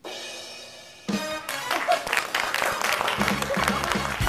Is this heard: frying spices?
no